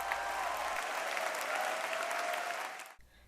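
A concert audience applauds a choir after a grand choral performance, a dense, continuous wash of clapping with a light cheer mixed in that holds steady and then cuts off abruptly near the end.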